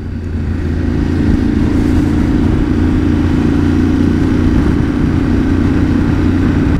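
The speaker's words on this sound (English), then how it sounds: "It really pulls even though I'm in third gear and uh, 3000 rpm oh yeah it wants to go immediately" Engine of a Yamaha Tenere 700 motorcycle pulling in third gear at around 3000 rpm, a loud, steady low drone that rises slightly and holds close up, alone and without voices.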